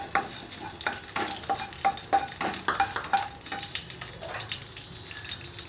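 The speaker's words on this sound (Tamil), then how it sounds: "எல்லாத்தையும் மிக்ஸ் பண்ணிக்கோங்க." Whole spices (bay leaf, cinnamon, star anise, cardamom, cloves) stirred in a hot pan for coconut milk rice, with crisp scraping and clinking strokes over a light sizzle, fairly close and steady.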